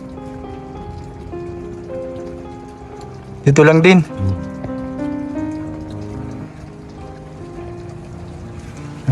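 Heavy storm rain patters on a surface throughout while people talk nearby, with a brief louder clatter in the middle.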